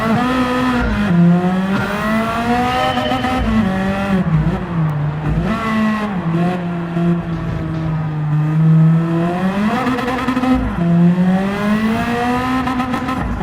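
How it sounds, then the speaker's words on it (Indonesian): Nissan Skyline Super Silhouette race car in the video game Gran Turismo 6, its engine droning loud and close with rising and falling revs through gear changes and a brief tire squeal, heard alone without talk. "Kehadiran Nissan Skyline Super Silhouette dalam Gran Turismo 6 memungkinkan pemain untuk merasakan sensasi mengendarai mobil balap yang ikonik tersebut."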